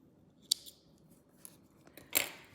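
Scissors cut crochet yarn, two quick, crisp snips close by, the second louder, over a quiet room.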